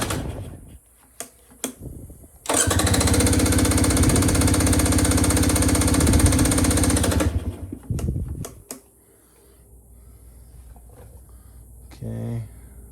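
A 2019 KTM 300 XC two-stroke motorcycle with a Lectron carburetor bursts into a loud, buzzing idle for several seconds, then sputters and dies, with scattered clicks and a brief mechanical rattle afterward.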